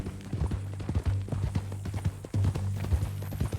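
Horse hooves clip-clop at a steady trot in Red Dead Redemption 2, close and distinct with a few heavier thuds, and no voices over them.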